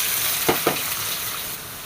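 Mustard seeds and peanuts fry in hot oil in a kadai, giving a steady close sizzling hiss broken by two sharp pops near the start.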